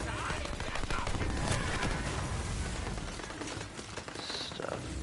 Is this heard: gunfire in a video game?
yes